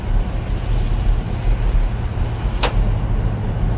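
A 1975 Monte Carlo drives along the road with a steady engine and road rumble heard from inside, a brief sharp noise marking a gear change partway through.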